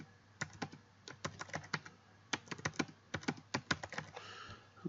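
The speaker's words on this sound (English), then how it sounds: "So just type in a password." Typing a passphrase on a computer keyboard: irregular clusters of crisp key clicks with short pauses between bursts, close and fairly quiet, with no voices.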